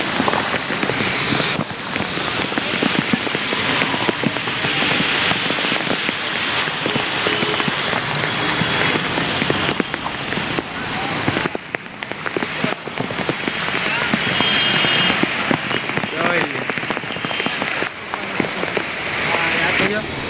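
Heavy rain pours down in Junagadh city, a dense continuous hiss of drops drumming on surfaces, with a voice speaking faintly under the downpour.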